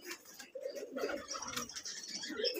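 Male Giribaz pigeon at a Rajshahi pigeon farm giving a low, repeated cooing call, fairly close, with faint chirps and background noise around it.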